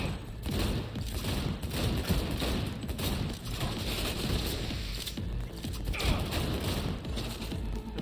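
Dense gunfire rattles in a Cyberpunk 2077 fight scene, a continuous chaotic barrage of overlapping shots and mechanical clatter lasting throughout, moderately loud without spoken voices.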